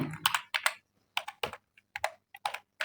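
A computer keyboard is being typed on while entering HTML and CSS code, heard as close, crisp clusters of keystrokes separated by short pauses.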